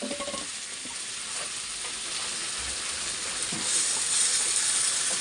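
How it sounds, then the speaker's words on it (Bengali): Cauliflower stems and mixed vegetables fry in a pan with a mustard and poppy seed paste, giving a steady, close sizzle and hiss that runs throughout and swells slightly louder near the end, with faint stirring clicks. "চলো এটা কিছুক্ষণ ভাজা হোক।"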